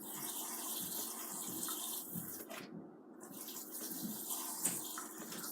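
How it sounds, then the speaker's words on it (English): Purified water pours steadily into a juice drink, a continuous gushing splash with a brief pause near the middle before the flow resumes, close and fairly loud with no talking. "I'll be adding our purified water."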